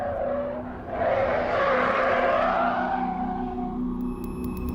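A Porsche Cayman R slides through a corner on track, its tyres squealing in a long rising and falling screech over the engine drone, close and sustained for several seconds.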